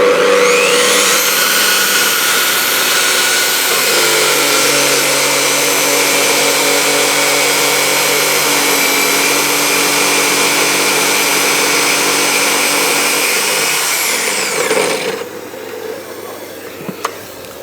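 A Festool HK 85 carpentry circular saw runs through timber on its guide rail with a 36 mm dust extraction hose attached, a loud steady whine lasting about fourteen seconds before the motor spins down to quiet.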